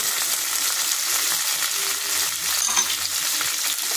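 Chopped ginger, garlic and chili sizzle and crackle steadily in a hot pan, close and continuous, with no voices.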